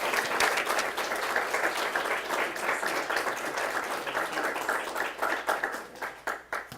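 An audience applauds to welcome a speaker at a university lecture series, dense and sustained clapping that thins into scattered individual claps toward the end.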